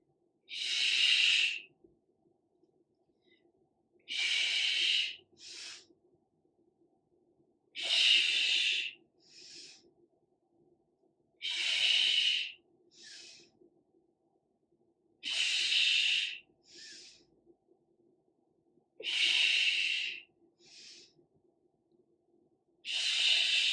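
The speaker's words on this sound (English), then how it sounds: "Exhale, inhale, exhale, inhale." Heavy exercise breathing during a home back and chest workout, forceful breaths repeating about every four seconds, each a loud hissing exhale or inhale followed by a shorter softer breath, close and alone with quiet gaps between.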